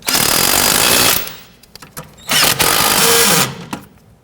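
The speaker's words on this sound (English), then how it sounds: "tighten down these nuts" Power tool run on the nuts of a front lower control arm on a 1992–1996 Toyota Camry, a long loud whirring burst, then short taps and two more sustained bursts close by.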